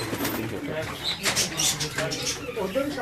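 Pigeons at a breeding setup on a farmhouse coo and flutter their wings close by, with a steady bird chorus and someone talking over it throughout.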